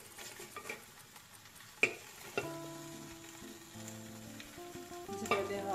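Chicken and chopped onion sizzle in a pressure cooker, a soft crackling fry under light clinks and a stirring scrape, with faint electronic beeping tones in the background.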